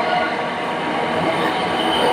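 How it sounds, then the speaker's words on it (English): A South Western Railway train runs through Wimbledon station in London without stopping, a steady loud rumble of wheels and carriages with a faint squeal, continuous and close throughout. "That's a train coming, but I think this one is not stopping here."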